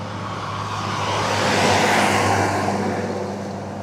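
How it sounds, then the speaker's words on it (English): A farm tractor drives along a rural road, its engine rumble swelling as it nears and passes close by, then easing off, with no talking. "There goes that tractor on the road."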